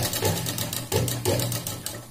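A sewing machine stitches a party-wear dress being made from a saree, its needle hammering in a fast steady rhythm with brief pauses and restarts, close and clear.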